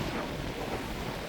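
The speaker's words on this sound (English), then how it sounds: "A bit windy." Wind buffets across a busy street on Chingford Road in Walthamstow, London, a dense, rough blustering rush that fills the short moment at steady strength, alone with no talk.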